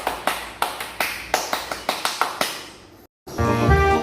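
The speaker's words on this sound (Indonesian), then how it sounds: "tepuk pramuka" A tepuk pramuka, the rhythmic Indonesian scout clapping routine: about a dozen sharp, close claps in a brisk patterned beat, then a sudden break and a different tonal sound.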